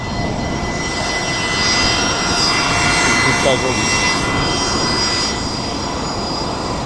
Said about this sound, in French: Ça c'est le décollage, mais j'imagine que oui.